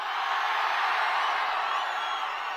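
A huge crowd at a Prajagalam political rally in Railway Kodur sends up a sustained, dense roar of cheering and whooping that holds at a steady, loud level throughout.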